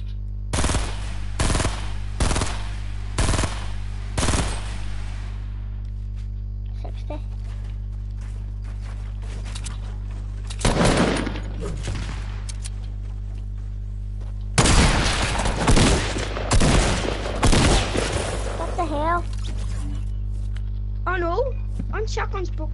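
Rapid assault rifle bursts in a video game, loud clustered volleys in several bursts separated by pauses, with a steady hum underneath and brief voice-like sounds near the end.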